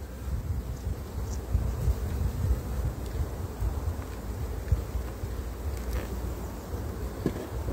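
Honeybees crawl over a brood frame where the queen is walking, making a continuous low hum with faint buzzing and rustling close by and no voices.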